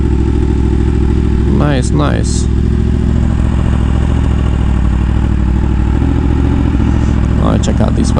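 Motorcycle engines idle loudly and steadily at a bike meet, a constant close rumble that fills the clip, while people briefly talk over it.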